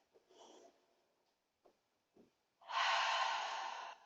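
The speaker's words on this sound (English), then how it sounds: "We're going to take one more breath." A deep, audible breath during a yoga lunge pose, with a soft inhale near the start and then a loud, broad exhale rushing out for over a second at the end, alone with no talk.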